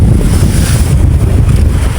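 Heavy sea waves around a small fishing boat (bangka) moving slowly through rough water, with a loud, steady rush of wind and surf that never lets up.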